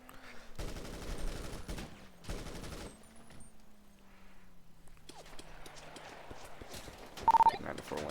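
Rapid volleys of gunfire crack out loudly in two dense bursts during a police shootout in Lake County, followed by shuffling, movement and people talking.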